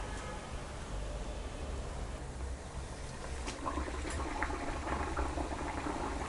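Moong dal kachori deep frying in hot oil, a steady low bubbling sizzle with faint crackles and pops throughout, close and moderate in level, with no talking.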